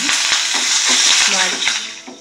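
Curry leaves crackle and sizzle as they drop into hot oil for an Andhra-style majjiga charu, a loud, close, steady frying hiss with short crackling bursts and brief stirring knocks.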